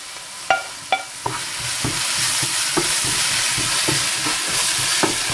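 Okra (vendakka) with green chillies sizzles and is stirred in a pan for a mezhukkupuratti; a few sharp spoon clinks come at the start, then a continuous close frying hiss with occasional scrapes, no talking.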